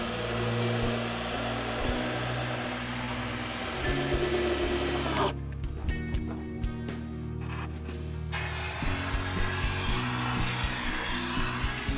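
A power drill whines steadily while boring into a cabin wall during PIR insulation work, then cuts off into intermittent short bursts and clicks of tool handling, close and loud.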